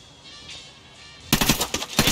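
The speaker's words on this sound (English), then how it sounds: "Burst fire on these boys." Rifle burst fire in Ghost Recon Wildlands: after a quiet stretch, loud clipped bursts of shots erupt close by, several quick volleys in succession.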